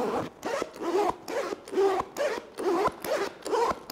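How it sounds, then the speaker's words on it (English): Quiet zipper on an ALPAKA Vertex pouch being pulled open and closed, a series of about eight smooth rasping strokes in a steady back-and-forth rhythm, close and alone. "make sure you can open up the zippers"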